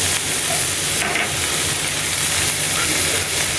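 Okra frying in a pan with ginger garlic paste, a loud, steady sizzle and hiss close up, with occasional stirring scrapes throughout.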